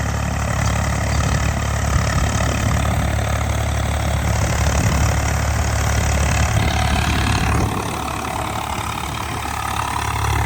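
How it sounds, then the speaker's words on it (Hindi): Tractor with a rotavator running in second gear, giving a loud, steady, continuous engine drone and mechanical rumble close by that eases off slightly near the end. "दूसरे गियर में चल रहा भाई, ये देखो। दूसरे गियर में भी कोई आवाज नहीं आ रही फालतू की।"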